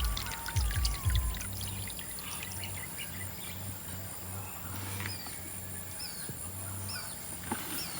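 Water pours steadily over sand clams being washed outdoors, a continuous rushing wash with birds chirping and insects buzzing in the background.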